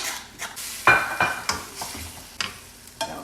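Roasted garlic stirred into a sizzling pasta sauce in a pan, with several distinct scraping stir strokes over a soft sizzle, close and fairly quiet, no voices.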